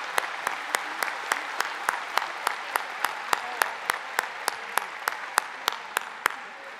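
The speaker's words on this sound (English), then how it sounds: "Let's give those young ladies a round of applause." Audience at an annual community meeting applauding a group of young ladies, steady even clapping from a crowd with sharp individual claps standing out, fairly distant and sustained throughout.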